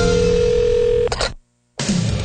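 A telephone dial tone sounds after the caller hangs up, a steady loud electronic hum that breaks off with a click, drops into near silence, then returns as a noisy line.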